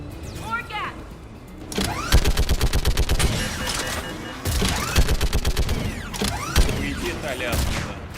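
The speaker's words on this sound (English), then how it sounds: "Shepard, you should be able to use the gas turret" Gas turret fire in the video game Mass Effect 3, rapid bursts of repeated shots in two or three volleys over mechanical creaks and game noise, with voices talking throughout.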